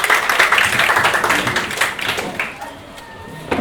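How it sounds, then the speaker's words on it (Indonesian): A class of students applauds together in a classroom, a dense burst of clapping that tapers off after a couple of seconds, with some voices mixed in. "Tepuk tangan untuk kita semua."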